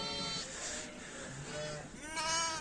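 Lambs bleat on a farm alongside a shepherd dog, giving several wavering, high-pitched cries close by, one after another, over faint background noise.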